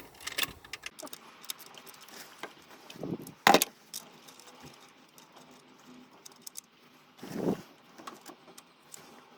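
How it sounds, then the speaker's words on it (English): Ratchet and 30mm socket working a bolt loose on the alternator of a Ford Galaxy 2.0 TDCi, giving scattered metallic clicks and clanks with a few louder knocks, fairly close and quiet, with no talking. "we take 30mm socket and undo this one"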